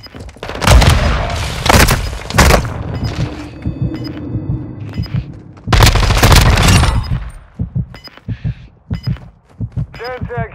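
A grenade explosion and bursts of gunfire in the Call of Duty Modern Warfare video game. Loud booms and rattling shots are spread through the scene, and voices are heard between them.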